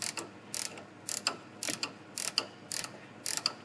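Ratchet wrench loosening the stabilizer link nut on a Ford Escape front end, seven crisp bursts of pawl clicks in a steady rhythm, close up, with no talking.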